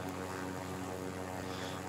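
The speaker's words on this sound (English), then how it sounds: "Why's the helicopter doing this?" A helicopter flying in the video game Call of Duty Warzone, a steady rotor and engine drone held at constant, moderate loudness throughout.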